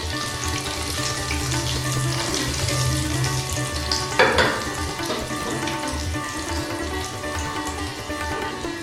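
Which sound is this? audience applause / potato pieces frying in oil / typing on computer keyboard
potato pieces frying in oil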